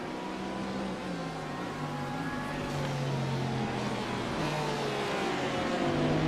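Corvette and Porsche GTE race cars at Daytona roar past in a steady, rising engine drone, with several pitch sweeps as the cars pass and shift while the sound builds toward the end.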